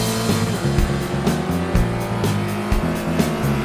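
Spec Racer Ford race car in iRacing at Oran Park, braking hard downhill into a left-hand turn; a loud, close engine note with rapid downshift blips and shifting pitch runs steadily throughout, no voices.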